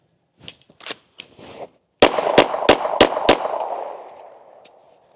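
Live-ammunition handgun shots during a concealed-carry draw drill, several sharp loud reports in quick succession with a ringing tail, after a few soft handling noises.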